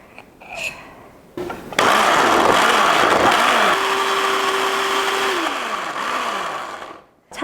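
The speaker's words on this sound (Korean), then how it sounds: "내장은 아, 좀 갈아줄 겁니다" A kitchen blender grinds abalone innards. A short whir comes first, then a loud, steady grinding hum that wavers in pitch as the blade spins. It runs for several seconds and then cuts out abruptly.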